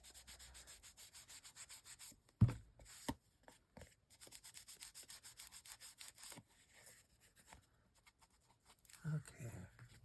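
Paper edges being inked for a photo album produce soft, rhythmic rubbing strokes, quiet and close, broken by a couple of sharper taps and handling noises.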